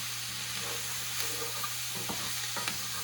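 Peppers and summer squash frying with garlic and onions in a pan, a dense steady sizzle with a few soft stirring scrapes near the end, close and unbroken.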